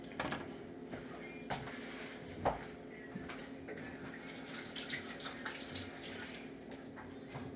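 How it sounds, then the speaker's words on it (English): A hand being washed under a running kitchen tap, a faint steady stream of water with soft splashing and a brief louder knock partway through, heard from a short distance. "And I'm gonna wash my hand."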